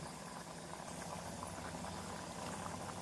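Elephant foot yam tamarind gravy boiling in a pot, a steady low bubbling and gurgling simmer heard close and fairly quiet, with no voices.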